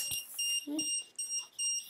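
A Minisumo UR Maker robot, just connected to a computer, gives a series of short, bright electronic beeps in a regular on-off pattern, with quiet speech faintly underneath.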